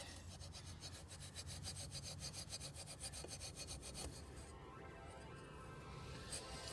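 Steel wool rubs a gasoline-soaked knob with quick rhythmic back-and-forth scrubbing strokes, close and quiet, slowing to softer scattered rubs toward the end.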